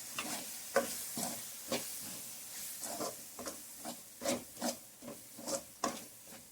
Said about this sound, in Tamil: இப்போ கிளறிடலாம்.